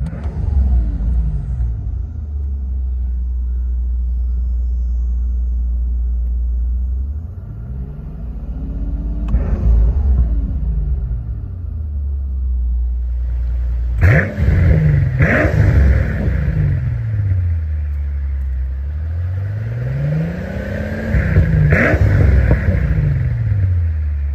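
A 2005 Mercedes-Benz SL65 AMG in park gives a loud, close engine rumble, rising in repeated revs toward its limiter and falling back to a steady idle between them, with no talking.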